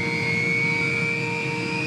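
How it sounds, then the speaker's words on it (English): Turbine engines of a Kaman K-MAX unmanned helicopter spooling up with a steady, loud, high whine over a low rumble, its pitch holding nearly level while it runs. "its massive turbine engines spring into life."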